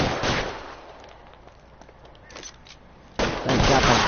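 Gunfire in the LA Noire video game: two loud, broad blasts, one at the start and a longer one near the end, with a quieter stretch between them.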